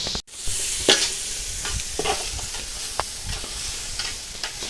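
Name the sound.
chicken noodles frying and being stirred in a pan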